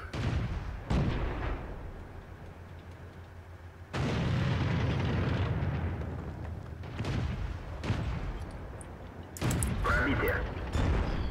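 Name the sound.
artillery fire in the video game World of Tanks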